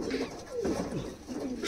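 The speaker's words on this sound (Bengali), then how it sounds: "এই পায়রা পেয়ারটা সেল হবে" Pigeons of a show breed coo in low, rolling throaty calls, several overlapping close by at moderate volume, with no talk over them.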